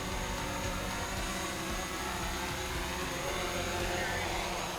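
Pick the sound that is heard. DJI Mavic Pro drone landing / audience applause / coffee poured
DJI Mavic Pro drone landing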